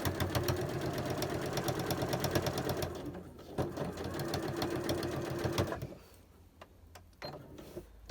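A sewing machine runs in a fast steady stitching rhythm while sewing down a skirt seam, the motor whirring continuously before slowing and stopping, followed by quieter handling sounds.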